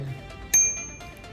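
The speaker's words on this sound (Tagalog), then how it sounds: "Yung bell." A single crisp ding from a bicycle bell fitted to a Ninebot scooter, struck once close by in a quiet room, leaving a short ringing tail.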